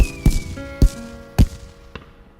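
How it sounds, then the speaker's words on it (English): Cartoon fireworks burst in a quick series of four sharp, loud pops about half a second apart, trailing off with fading crackle and faint ringing tones between bursts. "The fireworks are really loud, Grandpa."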